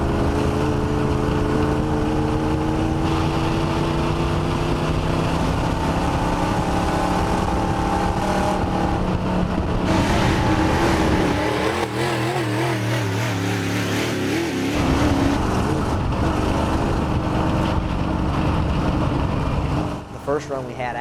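A race car engine at full throttle roars loud and close, its harmonic whine climbing steadily as it accelerates, with a voice talking over the engine noise.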